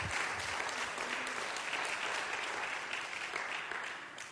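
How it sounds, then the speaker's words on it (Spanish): A church congregation applauds the Lord with steady, dense clapping from many hands that fills the whole stretch at moderate, slightly distant level, easing off a little toward the end. "Así que le puedes dar un aplauso al Señor"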